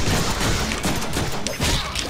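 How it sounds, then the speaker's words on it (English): Deadpool video game gunfire bursts in a dense, loud barrage of overlapping shots and impacts that fills the whole moment without a pause. "I just love how he shoots over his head"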